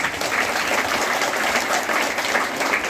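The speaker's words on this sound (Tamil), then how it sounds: "இது சத்தமா கை தட்டுறதா?" A hall audience claps hard and continuously at a school event handing out books, notebooks and uniforms to schoolgirls in Thiruvaiyaru, making a thick, even wash of applause with no break.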